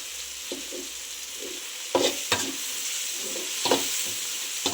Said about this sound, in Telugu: ఇలాగ మాడు గంట కన్నా ఇట్లా వేయించుతూ కలుపుకుంటూ ఉండాలన్నమాట.